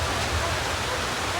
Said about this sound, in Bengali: এই বৃষ্টি হলো দেখেন